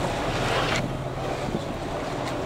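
Composite plastic Vietnamese fishing boats crowd into a harbor mouth to shelter from a storm, with a steady rush of wind and water washing over the scene and no voices.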